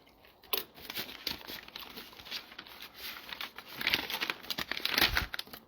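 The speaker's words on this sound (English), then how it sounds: "You hear that paper?" Paper is crumpled and crinkled close to the microphone in irregular bursts of crackling rustle that grow louder and denser toward the end.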